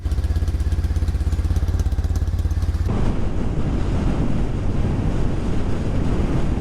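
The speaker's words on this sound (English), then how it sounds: "It's lovely to be out on the bike." A motorcycle engine thrums steadily while riding, a loud pulsing beat up close, then heavy wind buffeting takes over the microphone and roars for the rest of the ride.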